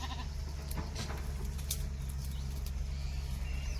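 Goats graze in the shade of a village field by a pond, bleating intermittently over a constant low rumble of outdoor background, with a few faint bird calls and no speech.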